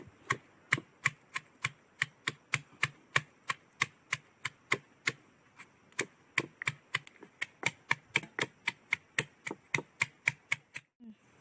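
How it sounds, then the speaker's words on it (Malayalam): Steady, rhythmic knocks of a stone pounding kanthari chillies, dozens of sharp evenly spaced strikes, close up with no talking. "കല്ലിട്ടിടിച്ച് ചതച്ചെടുക്കാം"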